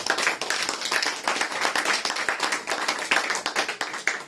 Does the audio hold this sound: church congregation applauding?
yes